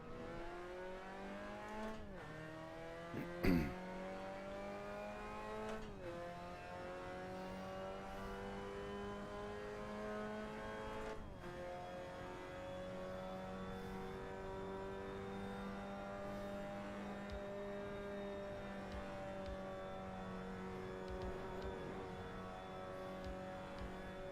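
Touring race car engine in VRC Super Tourers, a front-wheel-drive racer revving high and climbing through steady gear pulls, with blips and brief drops as it shifts, loud and continuous with no talk.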